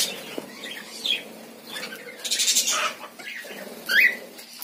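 Small birds in a breeding colony aviary flutter their wings in several quick bursts, with a few faint chirps between the flaps, close by and moderately loud.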